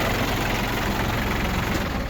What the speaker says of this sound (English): The engine's good and warm.